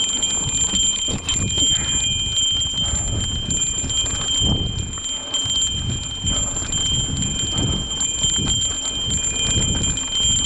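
A bell mounted on a bicycle rings steadily while it is ridden alone along a windy two-way trail, its thin metallic tone held under heavy wind rumble.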